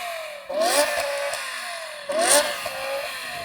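A BMW M5 engine revs hard twice, each burst rising sharply then settling into a loud sustained whine, close and alone without talk.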